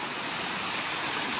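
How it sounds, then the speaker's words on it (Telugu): Small mountain stream on the Kudremukh trek, a close, steady rushing and gurgling flow with no voices over it. "మధ్య మధ్యలో అలాంటి చిన్న చిన్న స్ట్రీమ్స్ అయితే వస్తాయి"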